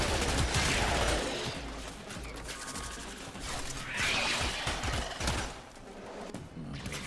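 Rifle fire in the video game Warframe on the Switch, fast repeated shots rattling out in loud bursts over a busy game backdrop of impacts and mechanical clatter.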